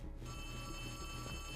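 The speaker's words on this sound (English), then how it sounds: "Where is this phone ringing?" An old-style telephone bell rings steadily and continuously in Poppy Playtime Chapter 3, fairly quiet under a low background hum, with no voices.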